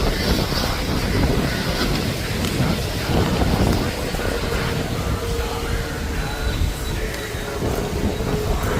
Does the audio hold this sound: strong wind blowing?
yes